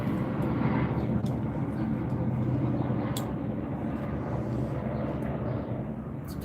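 A police helicopter flying overhead, heard as a continuous loud engine and rotor drone that fades slightly toward the end, with faint ticking clicks over it.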